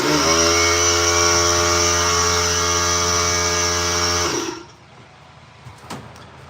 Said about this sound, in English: Apparently my air compressor has a bit of a leak.